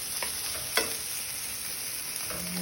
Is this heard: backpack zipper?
no